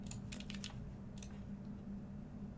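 Soft clicking keystrokes on a computer keyboard come in a few short bursts with pauses between, faint and close, over a low steady room hum.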